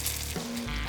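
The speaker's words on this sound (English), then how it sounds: "This is kind of a quail stir fry right here." Quail pieces stir-fried outdoors as camp food with onions, peppers and potatoes, sizzling close up in a pan in a short, steady burst.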